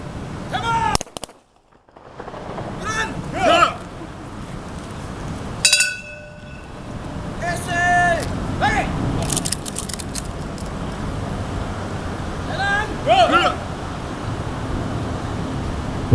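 Sharp shots ring out at intervals during a police FRU (Federal Reserve Unit) demonstration, with metallic clinks and a steady outdoor rumble beneath, some reports louder and nearer than others.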